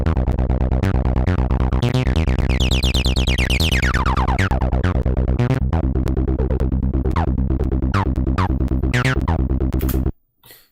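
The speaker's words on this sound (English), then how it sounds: "so I'm using a pulse wave. Maybe that's why we're getting that kind of like weird sound." A Behringer TD-3-MO-AM synthesizer plays a buzzy pulse-wave bass sequence, loud and rhythmic, with a filter sweep rising and falling through the repeating notes before stopping abruptly.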